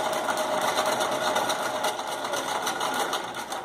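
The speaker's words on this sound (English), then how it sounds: "You want to let it just pull itself through the sewing machine." A sewing machine stitches fabric in a fast, continuous mechanical whirr, rapid and close, with no talking.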